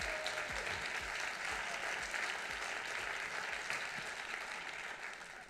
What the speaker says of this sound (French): on peut évidemment les applaudir à nouveau